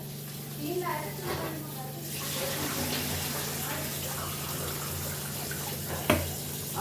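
Tomatoes washed under running water from an RO purifier tap in a home kitchen, a steady flow with splashing, voices talking over it early on and a low electrical hum underneath.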